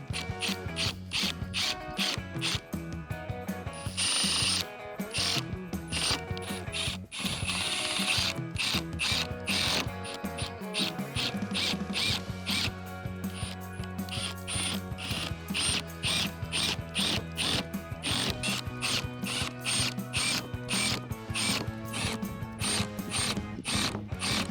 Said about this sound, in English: And now we're gonna add our screws in.